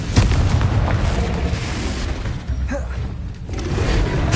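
Confringo fire-blast spell exploding in the video game Hogwarts Legacy, a dense booming burst that rumbles on across the whole stretch amid other game effects.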